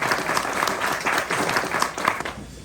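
Wedding guests give a round of applause, many hands clapping in a lively, dense patter that stays steady, then thins and fades away near the end.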